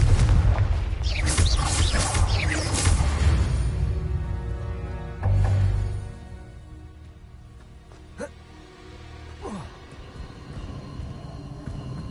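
A Confringo blasting spell goes off in Hogwarts Legacy: a loud rumbling boom with a dense low roar that lingers, then thins to a quieter tail with a few small thuds.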